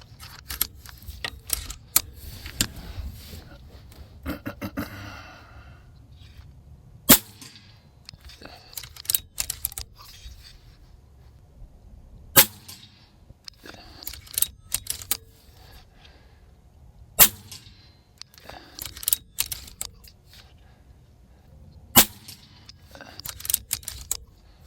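A JTS Airacuda MAX .30 big-bore air rifle fires a string of sharp, loud cracks spaced several seconds apart, with quieter mechanical clicks and handling noise between shots.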